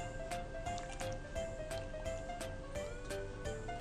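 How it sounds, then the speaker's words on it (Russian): Water trickles into a glass jar while zucchini is preserved in sugar syrup, heard as a quiet, close stream with small splashes and gurgles. A series of light clinks and taps runs through it at irregular intervals. "И доливаем воду."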